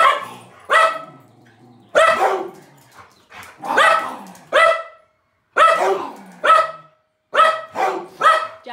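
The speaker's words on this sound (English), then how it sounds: "Jaffa, no bark. No bark. Good boy. No bark." A dog barks repeatedly up close, loud sharp barks in irregular bursts with brief pauses between them.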